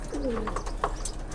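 A domestic pigeon gives a soft, throaty coo close by, a short rolling call over a steady background hum, with no voices.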